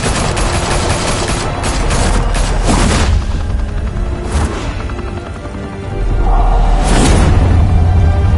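Bursts of gunfire from Batman The Telltale Series crackle in loud, dense volleys with booming impacts, easing off briefly before another heavy blast and continued rumbling.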